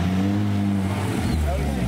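A Porsche 911 GT3 RS engine rumbles loud and close with a steady low drone, its pitch shifting slightly near the end as it revs.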